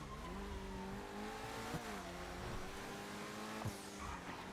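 A car driven in a GTA video game, with a steady engine drone shifting pitch as it revs, brief tire squeals and skid bursts, and no talking.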